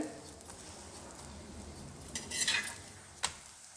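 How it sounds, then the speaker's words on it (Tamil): Methi chapati frying on a pan after oil is poured on, a faint steady sizzle with a few sharper clinks and scraping bursts near the end. "திரி போட்டு எண்ணெய் ஊற்றலாம்"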